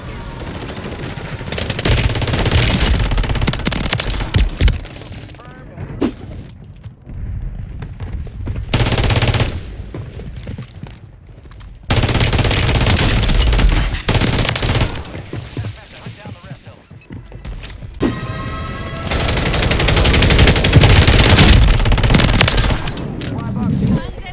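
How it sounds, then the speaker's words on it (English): The Holger 26 fitted with the JAK Burnout conversion kit fires in long, loud, sustained bursts of rapid gunfire during video game combat, separated by brief pauses. "show you a quick little montage of a bunch of kills so you can see this gun in action"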